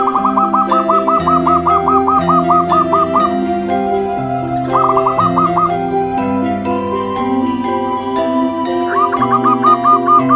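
Zebra dove (perkutut) cooing in rapid staccato trills, repeated in a few bursts over steady background music.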